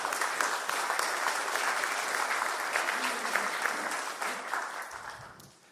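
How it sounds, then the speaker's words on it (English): A gathering of a school and church community gives sustained applause, a dense wash of many hands clapping at an even level before gradually tapering off at the end. "Can we applaud them, please?"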